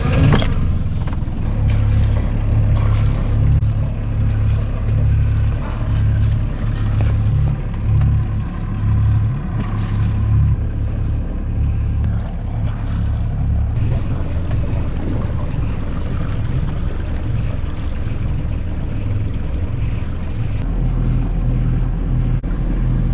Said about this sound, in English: I'm gonna start the engine and start moving.